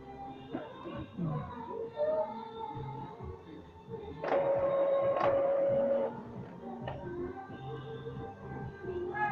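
An Epson L3110 printer starts a black copy, whirring and clicking mechanically with a steady hum and a sustained motor tone midway, while someone talks over it nearby.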